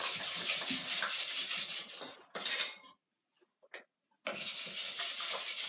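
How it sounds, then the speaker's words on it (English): A whisk beats liquid ingredients for crepe batter in a bowl, a steady metallic clatter and rattle that stops abruptly for a pause with a few scattered taps, then resumes at full pace. "now let's whisk all your liquid ingredients"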